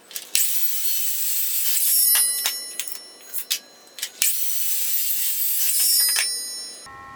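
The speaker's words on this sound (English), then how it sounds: "I'll go ahead and cut up this chunk of plum wood while I have the miter saw out" Miter saw cutting a chunk of plum firewood: two long, loud, whining cuts, each with a rasping bite, separated by a brief lull of small knocks and clatter.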